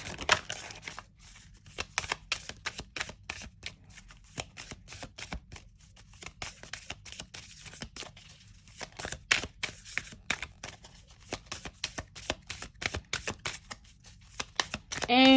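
Rapid riffling of thin oracle cards from The Witches Oracle deck, repeated bursts of crisp flutters and soft slaps, close by with brief pauses between shuffles.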